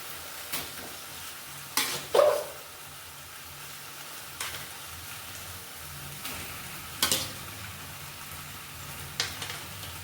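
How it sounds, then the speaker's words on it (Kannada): Meat and liver fry in a pan for kebab with a soft, steady sizzle, broken by a few louder scrapes and knocks as the pieces are stirred. "ಸೊ ಇದು ಫ್ರೈ ಆಗ್ತಾಯಿದೆ."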